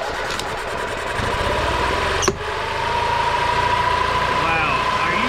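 An old gas golf cart engine being cranked: a steady mid-range mechanical drone runs throughout, with a single sharp click-like transient near the middle, loud and close, followed by a continuous engine hum.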